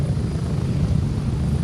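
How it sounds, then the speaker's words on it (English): Helicopter rotor drone from a ride in the video game Arc Raiders, a steady loud low thumping wash that holds throughout with no break. "I'm doing this whole helicopter ride without any hitching at all"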